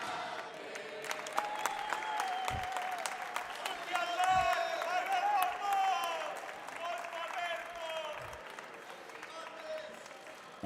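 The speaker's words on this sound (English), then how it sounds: "And all the crowd is cheering for a birthday here" A crowd at a para fencing World Cup in Pisa applauds and cheers through a sustained stretch of clapping, with a commentator talking over it and a few sharp thuds standing out.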